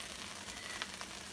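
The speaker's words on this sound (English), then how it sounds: "keep turning this as you're frying them" Breadcrumbs frying in butter in a pan, a steady soft sizzle with faint crackles, quiet and continuous with no talking.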